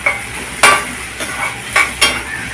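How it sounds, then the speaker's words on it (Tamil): Onions and a little tomato fry in a pan while a utensil stirs them, giving four distinct scraping strokes over a steady close sizzle. "வெங்காயம் வதங்கிடுச்சு. தக்காளி வந்து கொஞ்சமாக ஆட் பண்ணிக்கோங்க."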